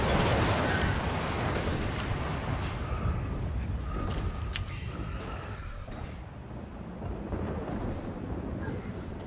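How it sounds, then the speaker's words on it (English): Heavy tank cannon fire and rumbling battle noise in the Warhammer 40k: Eternal Crusade video game, a dense, loud, continuous wash with a few sharper blasts and no talk. "it's in a fight with another tank and it's firing at me"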